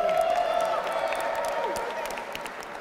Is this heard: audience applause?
yes